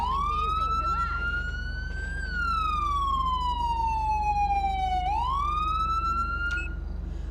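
Main wailing siren of a police car in GTA V with the LSPDFR mod, a loud tone slowly sweeping up and down over a steady low engine drone, with a brief chirp near the end.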